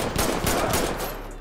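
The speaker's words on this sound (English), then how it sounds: "Oh, they shooting at each other." Rapid gunfire from the video game GTA 5, a dense burst of repeated, loud shots in quick succession.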